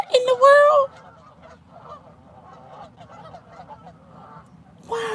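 Geese fighting and honking, a loud burst of harsh close honks at the start, then quieter scattered calls and scuffling, with another honking outburst at the end.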